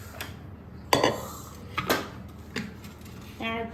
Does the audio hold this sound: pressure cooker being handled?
yes